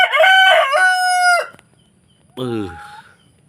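A rooster crows loudly and close by in one long drawn-out call, then after a brief pause gives a shorter second call.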